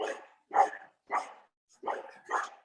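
A dog barks five times in a steady series of sharp, moderately close woofs with short pauses between.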